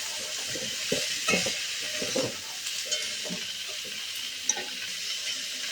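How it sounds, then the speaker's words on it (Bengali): Tomato and capsicum, with carrot, stir-fried in a pan: a steady bright sizzle with repeated scraping stirs and light clinks of the spatula, close and alone. "এগুলো দিয়ে আমি ভালো করে নেড়ে নেব"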